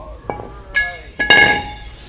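Metal tools clinking while a 10mm bolt is removed from a vehicle's brake assembly during an inspection: three or four sharp, bright clinks, close and fairly loud, with no talking.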